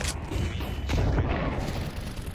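A flashbang grenade detonates in Counter-Strike, a loud, close burst of booming cracks that blend into a short run of gunfire-like bangs and fade out.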